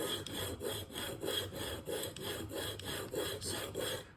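Single-bevel Cutthroat broadhead swiped repeatedly across a sharpening stone, a close rhythmic rasping scrape about twice per second over several strokes, with no voices.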